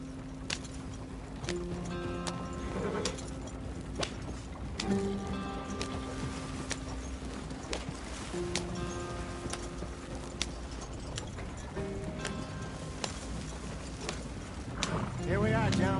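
Horse hooves clip-clopping in Red Dead Redemption 2, a steady rhythmic clatter of hoofbeats running throughout, moderately close, with voices talking over the ride.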